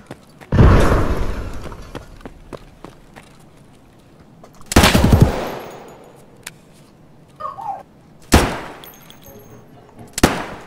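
Gunfire during hallway fighting in a shooter video game: a few loud, separate bursts of shots with reverberant tails and quiet gaps between them, plus smaller clicks and impacts.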